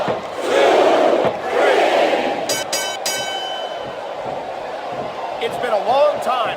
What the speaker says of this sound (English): It's been a long time since I saw a crowd get behind a superstar the way they have John Cena.